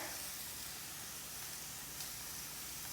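Shaved beef steak sizzling in a skillet, a steady soft hiss and crackle continuing evenly throughout, fairly quiet.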